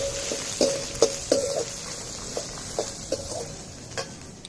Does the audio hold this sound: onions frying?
yes